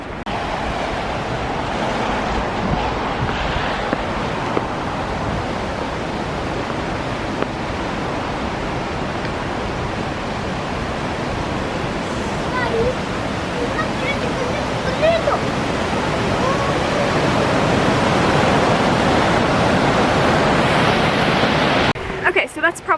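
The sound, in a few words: waterfall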